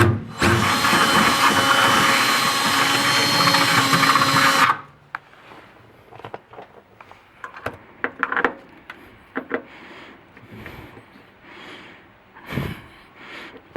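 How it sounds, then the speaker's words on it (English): A power drill whines loudly and steadily for several seconds while boring through an old metal gas tank, then stops, leaving faint clicks and handling noises. "we're going to drill a hole through the old gas tank here"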